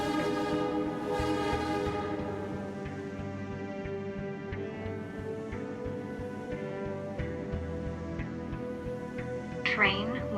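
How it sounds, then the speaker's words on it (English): In the Primordia video game, a train arrives with a sustained, chord-like horn blaring over rumbling rail noise, steady and fairly loud, with a brief squeal near the end and no one talking. "there is a train to Metropole"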